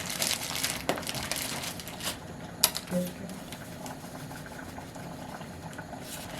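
A pot of tarhana soup bubbling steadily on the stove, a low continuous gurgling with a few sharp clinks, at close range.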